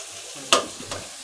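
A spoon stirs potato bhaji mixed with fresh grated coconut in a pan, giving one sharp scrape followed by a softer second stroke over a faint background hiss.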